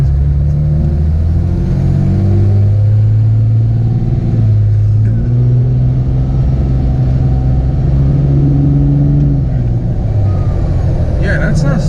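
An armoured Dodge Ram 2500 truck accelerates with a loud, deep engine drone that rises and shifts pitch from inside the cab, while people talk over it.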